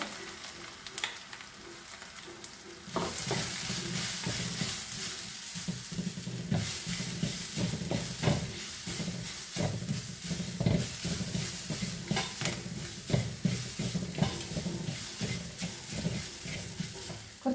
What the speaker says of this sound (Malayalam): കറിവേപ്പിലേക്ക് നമ്മൾ നാളികേരാണ് ഇടുന്നത് കേട്ടോ അതച്ച് വച്ചിരിക്കുന്ന നാളികേരാണ് ഇടുന്നത്